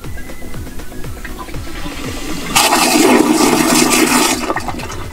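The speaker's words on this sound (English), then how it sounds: "Now we'll give it a quick flush." An RV toilet flushes with a sudden loud rush of water that surges and drains for a couple of seconds after a quieter stretch of faint background noise.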